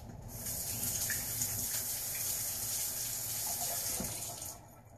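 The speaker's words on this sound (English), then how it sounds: "Let me go rinse off my hands real quick." Tap water runs steadily into a sink as hands are rinsed beneath it, a continuous close gush and splash lasting several seconds before it cuts off.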